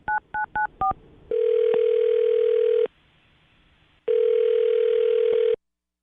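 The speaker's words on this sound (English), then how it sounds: "I'm going to dial her phone number right now" Telephone keypad tones beep in four quick touch-tone presses, followed by two long steady ringback tones separated by a pause, clear and alone with no voices.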